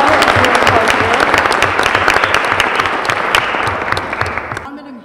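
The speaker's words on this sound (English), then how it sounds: "So why don't you give yourselves a round of applause for all of your hard" An audience at the 30th annual MLK oratory competition in Jersey City claps loudly and steadily, the applause tapering off and ending abruptly near the close.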